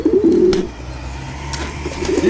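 Pigeons coo in low, throaty bursts close by, a couple of soft calls separated by brief pauses, with faint background noise.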